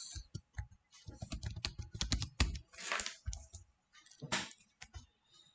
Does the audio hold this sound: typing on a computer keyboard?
yes